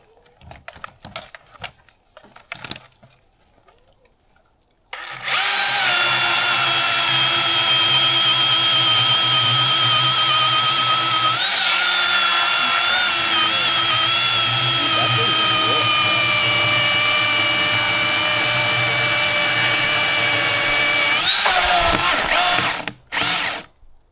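After a few clicks and handling noises, a Milwaukee battery-powered chainsaw whirs into a steady high-pitched hum for about fifteen seconds, then stops abruptly.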